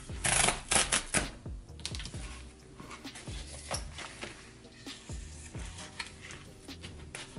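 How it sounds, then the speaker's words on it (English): Cardboard packaging of an Apple Card mailer being opened by hand, giving a quick run of crisp, close clicks, creaks and scrapes in an irregular rhythm. "So we'll just open this last piece of cardboard."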